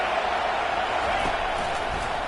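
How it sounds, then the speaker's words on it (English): A broad, steady stadium crowd roar swells loudly in College Football 25 during a third-down defensive stand at South Carolina, with a commentator's voice over it. "Decibels rising as the crowd gets behind this defense on third down."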